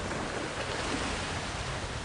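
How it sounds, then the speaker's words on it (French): Waves lash against old wooden dock planks in a steady, dense wash of water noise with no distinct individual breaks, close and fairly loud throughout. "fasciné par les vagues qui fouettaient les vieilles planches du quai"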